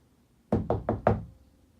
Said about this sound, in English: slow, but fast knocks just came on that door